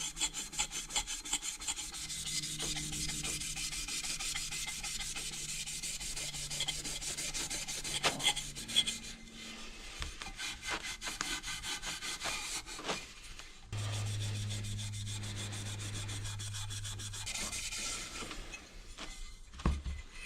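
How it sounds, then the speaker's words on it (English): A Scotch-Brite pad scrubs the body of a two-stroke motorcycle silencer in steady, close rasping strokes that run continuously for about twenty seconds, with brief pauses and no talking. "let's get the scotchy and scrub that body up"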